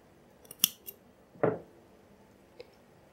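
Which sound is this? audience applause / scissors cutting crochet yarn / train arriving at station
scissors cutting crochet yarn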